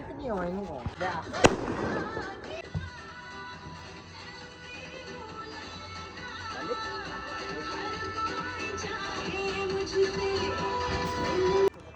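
Firecrackers crackle and pop in rapid bursts during Makar Sankranti festivities, a loud bang early on followed by a dense running crackle, with people talking over it.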